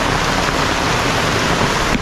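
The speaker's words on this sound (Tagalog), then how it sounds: "Ulan oh." Heavy rain pouring down in a dense, loud, continuous hiss that fills the whole stretch without pause.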